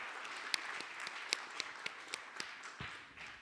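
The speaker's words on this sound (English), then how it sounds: "A round of applause for the panelists here." Audience at an agriculture conference panel applauding the panelists, a short burst of scattered, moderately quiet clapping with distinct individual claps that thins out after a few seconds.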